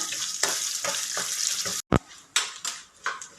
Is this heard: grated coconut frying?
yes